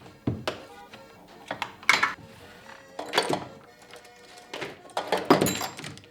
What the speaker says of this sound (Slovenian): Ok, zdaj smo dali pokrov dol.